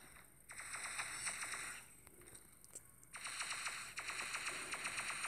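Rapid bursts of weapon fire from the Pixel Gun 3D shooter game, steady clattering volleys with a brief lull midway before the shooting resumes at full level.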